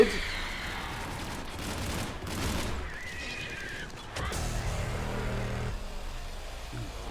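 Mass Effect 3 combat plays out as a dense, rumbling mix of explosions and bursts of gunfire, with crashes and booms layered over continuous game noise.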